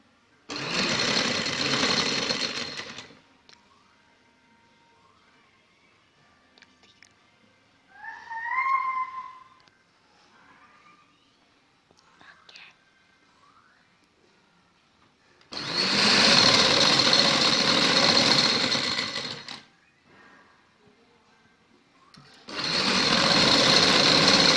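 A sewing machine stitches a border along a shirt's side-slit design in three loud, steady runs of rapid whirring, with quiet gaps and faint handling noises between them.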